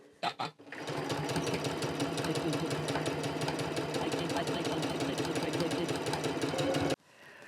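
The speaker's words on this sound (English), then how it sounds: "Now we're going to take it to the sewing machine and we're going to sew around that circle" A sewing machine stitches scrap fabric around a circle, running steadily at a fast, even rhythm for several seconds, close and continuous, after a couple of brief starting clicks.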